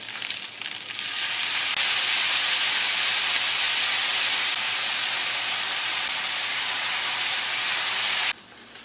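Rice wine vinegar, soy sauce and roasted chili oil hit a hot pan of chicken fried rice, giving a loud, steady, hissing sizzle that swells within the first second, holds evenly, then drops off abruptly near the end.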